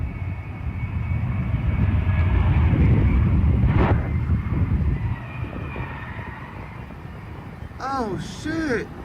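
A giant airplane touches down on a runway with a sustained loud rumbling roar that swells and then slowly eases, while a voice cuts in briefly near the end.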